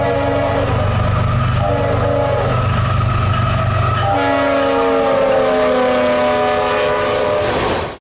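A heritage-unit diesel locomotive sounds its multi-chime horn, a loud close blast over a rumbling engine that shifts chord partway through and holds for several seconds before cutting off.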